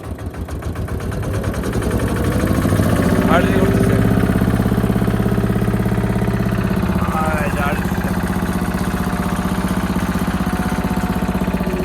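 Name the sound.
dumper truck engine accelerating with hydraulic system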